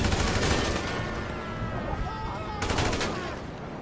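Gunshots ring out in Grand Theft Auto V roleplay: a loud burst of gunfire at the start, then a second volley near the end, over a steady ambient wash.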